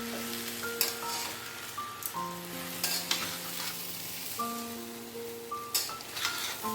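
Mixed vegetables for a vegetarian khichuri sautéing in a pan over raised heat, a steady frying sizzle with intermittent stirring scrapes, while steady tonal hums sound underneath, no talking.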